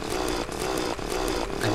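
A drill in the video game Terraria whirring continuously, a harsh, buzzing motor drone with slight rhythmic pulsing, loud and steady throughout with no voices.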